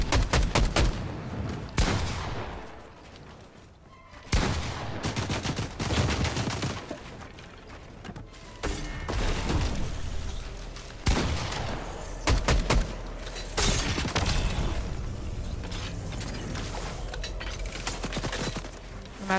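Gunfire in the video game Fortnite: rapid bursts of shots and automatic fire recur throughout, loud and close, with brief lulls between volleys and no talking.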